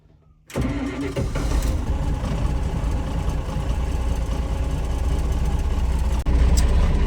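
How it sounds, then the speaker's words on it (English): An International 1086 tractor engine cold-starts with a sudden loud catch, then settles into a steady, heavy, low rumbling idle up close with a brief dip near the end. "So we'll cold start her up."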